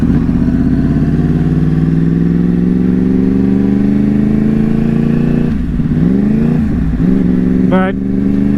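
A Yamaha R1 sport motorcycle drones loudly and steadily while riding, its engine pitch climbing smoothly before dropping back and rising again near the end.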